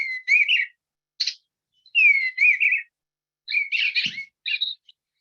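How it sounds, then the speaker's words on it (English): Eastern bluebird song, a series of soft, clear warbling whistled phrases delivered in short bursts separated by brief silences, close and alone. "So that's the song of the eastern bluebird"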